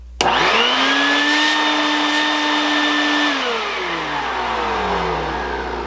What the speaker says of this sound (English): So it seems to vacuum pretty well